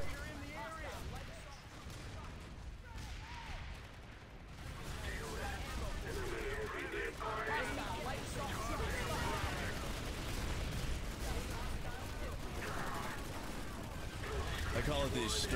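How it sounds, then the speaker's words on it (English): Grenade blasts and gunfire crackle through a video game match, a dense, continuous barrage of muffled bangs and rumbling under steady talking from players. "I think it's time for some grenades here."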